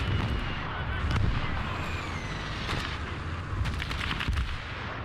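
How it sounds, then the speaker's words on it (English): Mortar and artillery fire in the Call to Arms: Cold War Gone Hot video game, with repeated sharp bursts and booms over a constant rumbling battle bed, loud and sustained. "Our mortars are doing excellent work."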